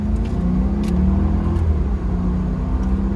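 Supercharged Jaguar X308 engine running with a steady, low rumbling drone and a slight rise in revs, close and continuous without sharp peaks.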